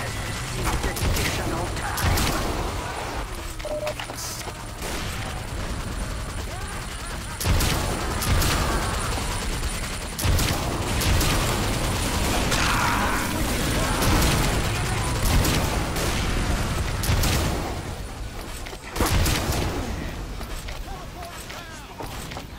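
Bursts of video game gunfire aimed at a sniper, repeated volleys and shots spread across the stretch, with a player talking over the firing.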